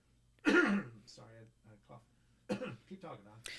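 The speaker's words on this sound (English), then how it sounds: "Sorry, I coughed." A man gives a sharp, loud cough and clears his throat, followed by quieter throat-clearing bursts and brief talk, all close to the microphone.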